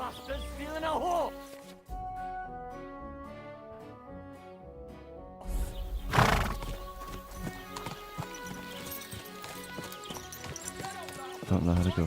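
A horse clip-clops at a gallop and whinnies in the video game Kingdom Come: Deliverance II, hooves drumming in rhythm over game music, with people talking over it.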